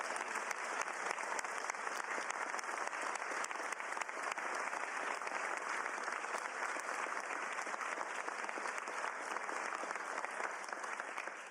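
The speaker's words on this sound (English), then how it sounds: "please give a round of applause from the elected officials to all of you" A room at Governor Jay Inslee's bill signing gives a sustained round of applause, an even, dense patter of many hands clapping, heard from a distance and fairly faint but unbroken.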